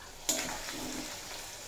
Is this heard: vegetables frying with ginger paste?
yes